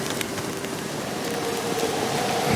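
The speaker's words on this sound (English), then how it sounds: "Looks like rain." Steady rain falls in The Witcher 3: Wild Hunt, a dense, even hiss of drops on surfaces that continues without a break and swells slightly toward the end.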